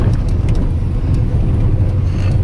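A motorhome cruising down the road, with a steady, loud low-pitched engine and road rumble filling the cabin throughout, no pauses or changes in pace.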